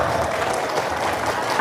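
A crowd at an Islamic religious talk in Indonesia claps on request, a brief continuous patter of hands at steady volume with faint voices mixed in.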